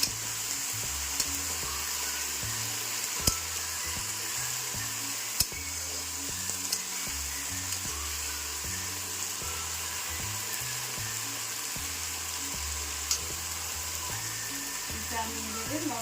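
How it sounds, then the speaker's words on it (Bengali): Garlic being stirred as it fries in a pan for a jute leaf curry gives a steady, close sizzle with light scraping, running continuously with a low tonal background underneath. "নেড়ে দিচ্ছি।"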